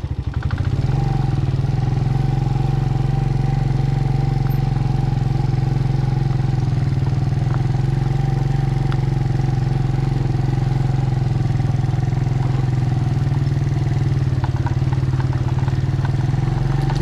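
Off-road motorcycles on a dirt bike track at Makhniyal near Islamabad keep up a loud, close, continuous engine drone, holding steady with little change and no talking over it.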